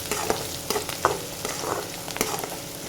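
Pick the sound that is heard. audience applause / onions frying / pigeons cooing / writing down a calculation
onions frying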